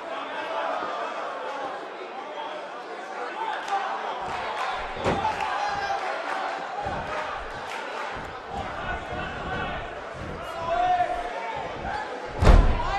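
A crowd in a WWE 2K18 wrestling match cheers and murmurs steadily at moderate volume, with thuds and slams from the ring and a sharp impact near the end.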